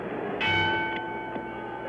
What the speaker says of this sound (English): The bell for the start of round 5.